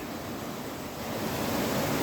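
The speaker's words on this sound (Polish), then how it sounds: "Mamy taki strumień dosyć warty" A fairly wide mountain stream in the Sierra Nevada rushes steadily nearby, a dense, even hiss of flowing water that swells slightly toward the end, with no voices.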